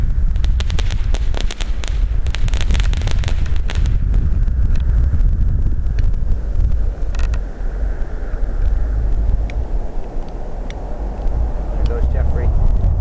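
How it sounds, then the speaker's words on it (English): A Delirium consumer fireworks cake goes off on the Fourth of July, a rapid volley of sharp cracks and pops in the first few seconds, then a loud rumbling, crackling wash with scattered bangs. "we are now going to light up the Delirium fireworks display now"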